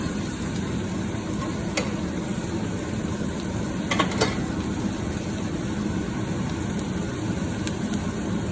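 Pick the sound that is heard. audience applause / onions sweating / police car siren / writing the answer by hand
onions sweating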